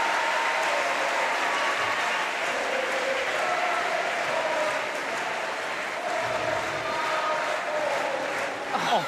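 A crowd at a para badminton wheelchair doubles bronze match between Switzerland and Thailand cheers and applauds steadily, a dense roar of clapping and shouts that swells and holds for several seconds.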